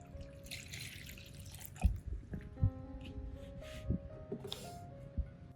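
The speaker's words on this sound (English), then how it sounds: "I'll pour some of the solution into a soaking tray." Orchid nutrient solution made with ripe banana, turmeric and fermented ingredients is poured into a soaking tray, giving faint trickling with a few soft drips and splashes, quiet and close.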